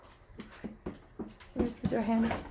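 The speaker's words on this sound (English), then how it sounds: "I'm sorry if you hear my dog playing in the background." An excited female dog playing indoors, giving short whimpers and scuffling noises in the background while someone talks over it close by.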